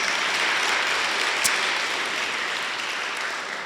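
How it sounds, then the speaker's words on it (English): Sustained applause from an audience at a Rotary club meeting, a steady dense wash of clapping that holds evenly throughout with no voices over it. "Let's give them a big round of applause"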